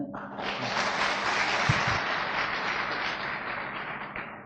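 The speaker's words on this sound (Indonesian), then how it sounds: "Mohon beri aplaus buat Bapak Heru Kuncoro di Bali." A seminar audience claps steadily for a guest speaker, dense applause that holds at an even level for a few seconds before thinning out near the end.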